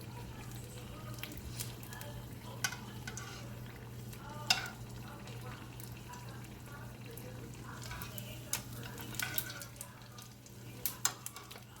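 Beer-battered fish fries in hot oil, cooking a few minutes on each side for tacos, giving a steady low sizzle and hiss with occasional clinks and stirring sounds on top.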